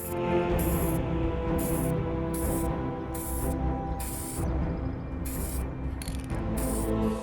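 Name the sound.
spray can spraying clear coat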